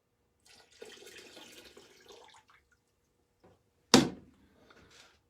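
Leftover rinse water poured from a warmed glass Chemex into a dump box, a soft trickling splash for a couple of seconds followed by a sharp clunk as the carafe is set down, close and otherwise quiet.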